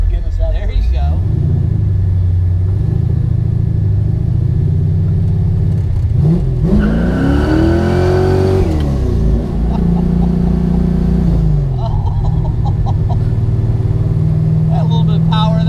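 A Chevrolet Chevelle engine revving and accelerating from inside the car, loud sustained rumble with rising pitch sweeps as it climbs through the gears, and voices speaking over it.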